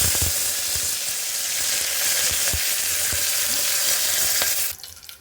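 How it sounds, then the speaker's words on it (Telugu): Cumin, mustard seeds and dry red chillies frying in hot oil for a tomato rasam tempering: a close, continuous hissing sizzle with scattered small pops, cutting off abruptly near the end. "జీలకర్ర, ఆవాలు, ఎండుమిరపకాయలు ఇవి వేసుకున్న తర్వాత అవి వేగాక కరివేపాకు,"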